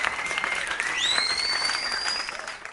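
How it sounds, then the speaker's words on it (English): Audience applause at a live DJ podcast event, a steady broadband wash of clapping throughout, with a rising whistle-like tone sliding up partway through and holding above the crowd. "So let's give them a round of applause."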